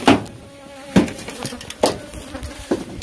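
Killer bees buzz close by around an old car gas tank, with several sharp bursts as bees zip past, set against a quiet outdoor background.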